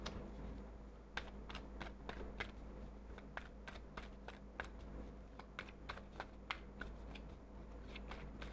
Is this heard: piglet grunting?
no